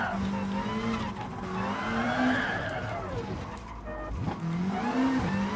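Tires squeal and skid through a handbrake turn in the racing game Gran Turismo Sport, loud and close over a revving car engine, with a voice talking in the background.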